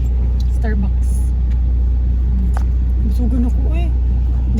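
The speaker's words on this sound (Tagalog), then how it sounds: "Traffic. Grabe ka traffic." Heavy road traffic in Lapu-Lapu and Mandaue, a constant loud low rumble of cars and engines with vehicles passing close by, while voices murmur faintly underneath.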